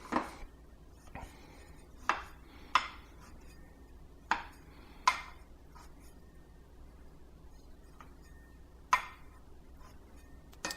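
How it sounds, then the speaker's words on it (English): A knife cutting a pan of jalapeño cornbread into a grid: sparse, faint, sharp taps and knocks against the pan at irregular intervals, quiet and close, with no talking. "I am going to cut it here"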